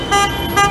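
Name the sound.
car horns honking at a protest motorcade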